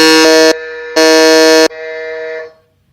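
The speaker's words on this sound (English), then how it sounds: "and Sanjana is again on the buzzer." Quiz buzzer at an online quiz match, sounding as two loud, flat electronic blasts followed by a longer fading tone, alone with no talk.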